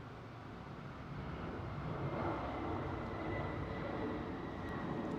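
United Airlines Boeing 767 with Pratt & Whitney 4000 engines taking off at London Heathrow, a distant, steady broadband engine roar that swells slightly and holds, faint overall.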